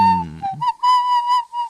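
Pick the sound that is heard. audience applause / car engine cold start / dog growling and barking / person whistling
person whistling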